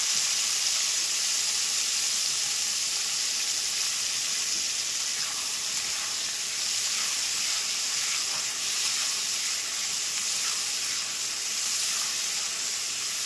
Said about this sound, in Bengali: তো দেখুন আমি দিয়ে দিচ্ছি পেঁয়াজ কলি। আমি একটু ভেজে নিচ্ছি।